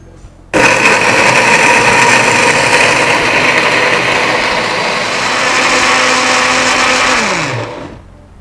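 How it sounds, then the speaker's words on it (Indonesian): A loud blender whirs steadily for several seconds grinding a thick spice paste, then winds down as the motor slows and stops. "sekarang saatnya kita blender bumbunya hingga halus"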